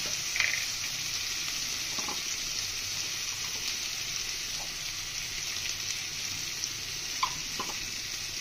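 Ground cumin, coriander and salt sizzle softly in a pan for keema pulao, a steady even hiss broken by a few faint clinks.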